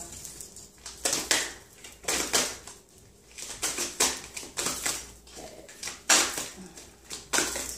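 A deck of tarot cards is shuffled by hand in repeated short riffling bursts, close and crisp, separated by brief pauses.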